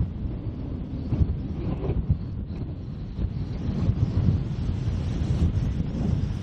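Strong gusty wind buffets the microphone on a coastal golf course, a loud continuous roar with irregular surges and no talking.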